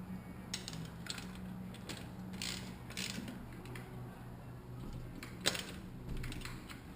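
Ratchet tightening a bolt on a Panasonic e-bike motor, a series of faint close clicking ratchet strokes in short bursts with quiet pauses between, no voices.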